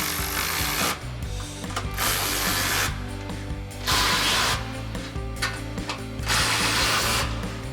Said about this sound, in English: we'll grab our 13 millimeter socket on our ratchet and tighten down all of our hardware